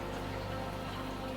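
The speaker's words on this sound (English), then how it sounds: "so that's where we stand right now, just waiting out the rain" Steady rain falling outdoors during a picnic, an even, soft patter with a low rumble underneath and no voices.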